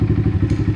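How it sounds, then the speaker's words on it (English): An Apollo RFZ DBX18 125cc pit bike engine idles after warming up, its single cylinder thumping in a fast, even, close beat with a loud low rumble. "Alright guys, we got the pit bike warmed up here."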